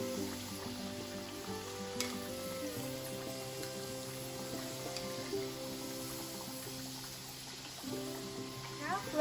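Sakinalu, a Telangana rice-flour snack, sizzle steadily in hot oil, with a soft continuous crackle and faint pops beneath a background tone.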